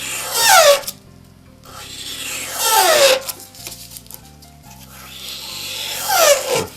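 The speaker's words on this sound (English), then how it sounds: "Once again we'll run over that with a 1200 grit stick." A part of a Gilbert kitchen clock is rubbed with a 1200 grit sanding stick in three rhythmic, raspy strokes, each a close, brief gritty swish, over a quiet low background hum.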